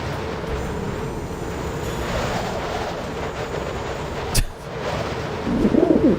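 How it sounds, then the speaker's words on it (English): Pigeon cooing in the PC game Deus Ex, a low murmuring coo over steady ambient game hum, with a brief sharp click midway and a louder burst of cooing near the end. "Pigeon, what are you doing?"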